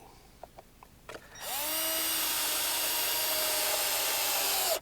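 After a few faint taps, a cordless drill spins up and runs steadily, driving wood screws into the joists of a modular wooden staircase, loud and close with a sustained whine.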